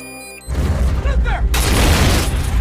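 A bomb thrown in an action film explodes: a sudden heavy boom erupts after a quiet moment, then a second wave of roaring, crackling blast noise follows, with faint voices under the din.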